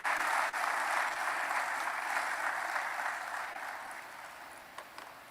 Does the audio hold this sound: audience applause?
yes